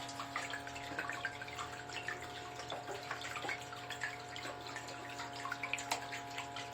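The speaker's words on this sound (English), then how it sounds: "I'm gonna get a little water in this pan." Water trickles and splashes steadily into a pan during an outdoor cleanup, a faint, continuous pour with small irregular drips and spatters throughout.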